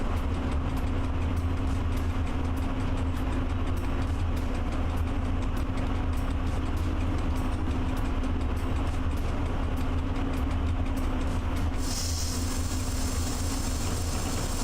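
A train in the video game Train Driver 2, running with the throttle on, rolls along the rails with a steady low rumble and a constant hum, joined by faint rhythmic ticking.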